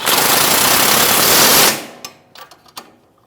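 A power tool, likely an impact wrench, snugs 21mm rear trailing arm bolts on a 2016-2025 Chevrolet Malibu in one loud, close, rapid hammering burst that stops abruptly, followed by a few light metallic clicks.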